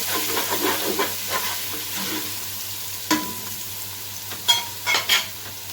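Garlic paste fries with onions, sizzling steadily in a pan, with occasional stirring scrapes and a few louder clatters near the end; no one speaks.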